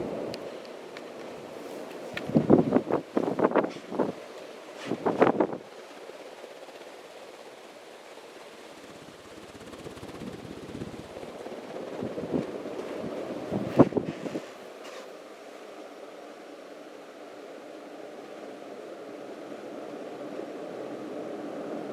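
A traditional brown Casablanca Delta II four-blade ceiling fan runs with a steady airy whoosh, interrupted by a few louder bumps and clicks near the start and in the middle.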